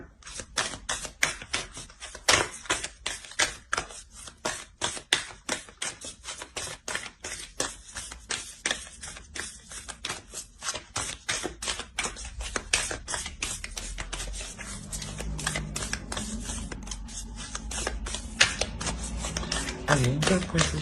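Oracle cards are shuffled by hand in a long run of rapid, crisp riffling clicks close by, which slow and soften toward the end as cards are drawn.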